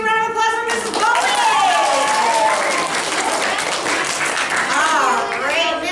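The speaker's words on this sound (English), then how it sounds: "Let's get a big round of applause for Mrs. Bowman!" An audience applauds and cheers for a contestant, Mrs. Bowman, at a live challenge show. The clapping is loud and steady and fills the whole stretch, with some whoops rising above it.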